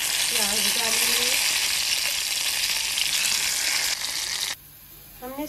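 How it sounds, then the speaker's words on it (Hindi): Finely chopped onions fry in a pan with a loud, dense steady sizzle, a voice murmuring underneath, before the sizzle drops off sharply near the end. "हमने इसमें बारीक कटी हुई प्याज डाल दी है और इसको थोड़ा फ्राई करेंगे"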